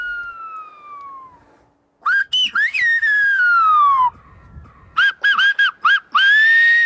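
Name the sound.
whistled language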